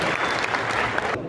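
Loud, dense applause from a large audience in a hall, welcoming the Uttar Pradesh state president Dr Ravinder Maurya to a Buddha birth anniversary gathering; steady clapping for about a second before it cuts off abruptly.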